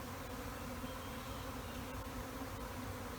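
A dense, steady buzz of a honeybee swarm flying outdoors from a bee yard, many bees together, continuous and even with no voices.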